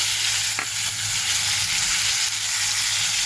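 Potatoes fry in hot oil with cumin-ginger paste, salt and turmeric, a loud, steady sizzle with occasional scraping stirs, close up and without voices.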